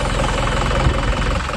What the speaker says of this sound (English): as you can see, starboard engine starts up just fine.